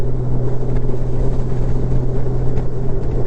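Steady, loud wind roar with low engine rumble while riding a Honda Gold Wing DCT motorcycle in Sport Mode on a Tennessee road, a constant rushing drone with no talk.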